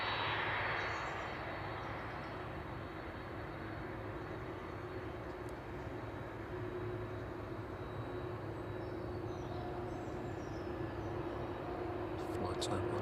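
An airliner rolls out on the runway at East Midlands Airport after landing, a steady broad engine roar with a brief higher whine at the start. It is heard from a distance under a calm commentating voice.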